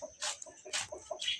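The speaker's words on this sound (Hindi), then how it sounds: "तो यार मैं आपको सारे मुर्गे दिखाता हूँ," Roosters and hens cluck softly in a village coop, with several short bursts of higher, rustling noise breaking through at intervals.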